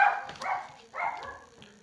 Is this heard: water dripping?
no